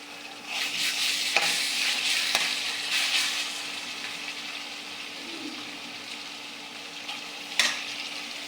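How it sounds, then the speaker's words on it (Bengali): Browned onions fry with added ginger and garlic in a pan for a village-style chicken curry, a close steady sizzle with a few sharp stirring clicks and scrapes, no talking. "পেঁয়াজটা ভাজা হয়েছে সুন্দর। এই যে আমি এতে আদা রসুনটা দিয়ে দেবো।"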